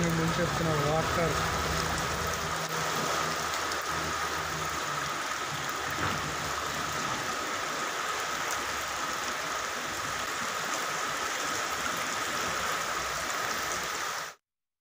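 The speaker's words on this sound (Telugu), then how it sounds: "నగర వ్యాప్తంగా భారీ వర్షం కురుస్తోంది" Heavy rain pouring across a city in Telangana, roads flooded and drains overflowing: a dense, steady broadband rush of downpour that runs unbroken, with a voice talking briefly near the start, before it cuts off abruptly.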